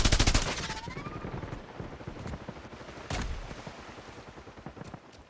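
Video game gunfire with loud bursts of rapid shots at the start and a second burst midway, trailing off under faint game ambience.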